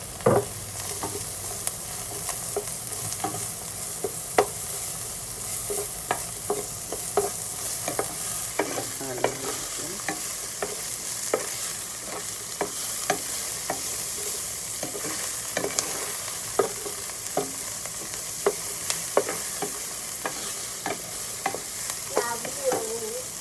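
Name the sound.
chop suey vegetables with garlic stir-frying in pan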